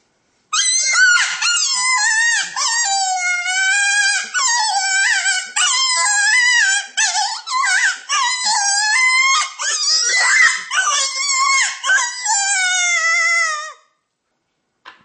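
A Buck Gardner raspy rabbit predator call blown on its tone board gives a long run of loud, wavering, raspy squeals and wails with brief breaks, stopping abruptly near the end.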